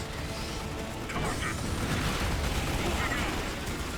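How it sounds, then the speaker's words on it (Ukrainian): Plasma weapon fire and an explosion from the Starship Troopers: Terran Command strategy game, a dense rumbling, crackling blast of battle noise that stays loud and steady throughout with a slight swell partway through. "Стріляємо, стріляємо сюди, зараз підірвемо цього плазможука"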